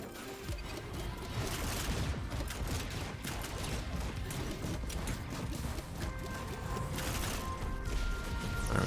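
Engineer's turret in Risk of Rain 2 fires steadily throughout, a dense run of rapid gunfire mixed with clattering impacts and other game effects, loud and continuous for the whole stretch with no voice over it.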